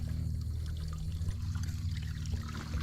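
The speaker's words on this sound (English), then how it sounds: "She's taking on water, Reed." Water pours and trickles steadily into a drilled, sinking fish habitat structure set from a NuCanoe Frontier 12 kayak, a continuous close gurgling flow with a low hum beneath, no talking.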